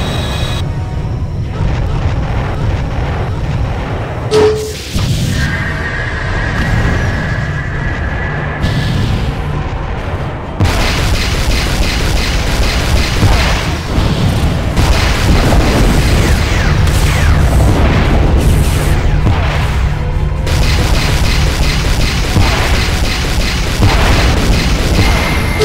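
Heavy weapon fire and deep booming explosions pound a ship in a space battle video game, a dense, continuous barrage of blasts and rumbling impacts with no voices.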